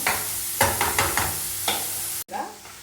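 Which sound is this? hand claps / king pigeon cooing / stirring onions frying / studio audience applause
stirring onions frying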